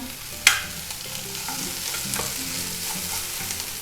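Peppers and mushrooms frying in a pan for vegetable noodles, giving a continuous hissing sizzle that sounds close and fairly loud, with one sharp utensil clack near the start and light stirring scrapes.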